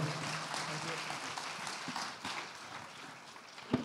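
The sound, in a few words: audience applause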